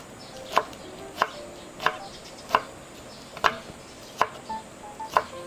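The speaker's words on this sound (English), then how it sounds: "So I have here 1 whole leeks, which I've already sliced it up. Let's cut them up very thinly as well." A knife chops thinly through already sliced leeks on a board, about eight crisp, evenly spaced strikes, close and alone.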